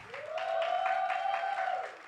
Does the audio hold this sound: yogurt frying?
no